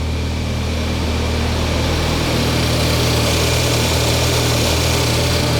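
A car engine idles steadily during a repair check, a constant low hum and vibration with no knocking from the timing chain, running alone without talk.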